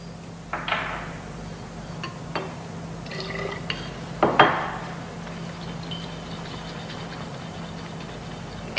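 Ethene gas is shaken with bromine water in a glass gas jar, giving a few close glassy knocks and liquid sloshes over a steady low hum, with quiet stretches between and no speech.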